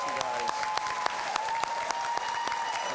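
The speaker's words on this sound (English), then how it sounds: "Please join me in giving them a round of applause." A crowd at a high school graduation applauds steadily, a dense wash of clapping with a few sharper individual claps standing out, sustained throughout.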